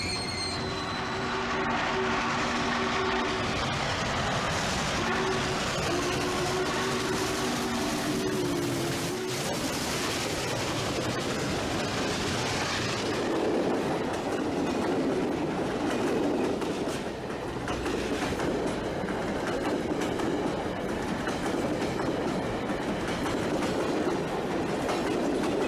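A train rolls past nearby for a long stretch, with a steady heavy rumble, squealing wheels and rhythmic clickety-clack of the cars, alone with no talk.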